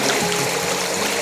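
River water flows between two hills, a brief, close, continuous rushing and gurgling stream with no voices.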